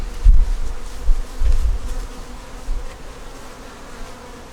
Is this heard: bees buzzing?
yes